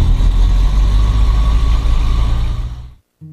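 A22LS Foxbat light aircraft engine at Devonport aero club in Tasmania runs loud and close with a steady droning roar, then cuts out abruptly near the end, followed by a brief small knock.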